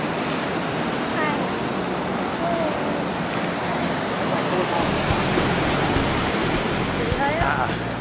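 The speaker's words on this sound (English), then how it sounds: "Get the waterfall in the back." A waterfall on the Mist Trail in Yosemite roars as a steady, loud broadband wash of falling water, with a few faint voices and bird calls barely rising above it.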